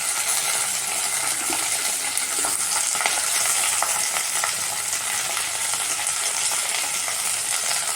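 Onion and tomatoes frying in a pan, a loud, continuous bright sizzle with light stirring scrapes running evenly throughout.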